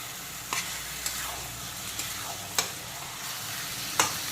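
Country chicken stir-fried with spices in a pan, a steady close sizzle with a few sharp scraping stirs of the spoon at irregular intervals, no voices.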